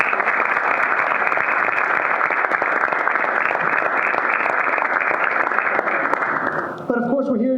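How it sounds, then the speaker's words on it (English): Audience at a National Honor Society induction ceremony gives a loud, sustained round of applause lasting about seven seconds, followed by a speaker resuming talk. "So let's give a nice round of applause for them."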